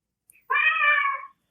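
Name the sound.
cat meowing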